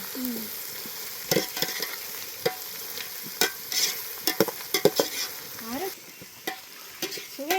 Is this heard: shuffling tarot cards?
no